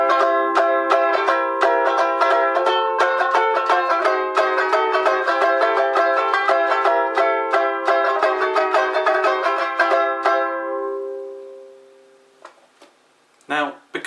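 Ukulele-style song verse played alone, mixing split strokes with simple swung strums in a steady bright rhythm, ringing out and fading near the end before a couple of faint taps.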